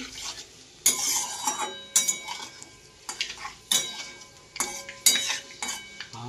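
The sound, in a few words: stirring panch phoron spices in a cooking pan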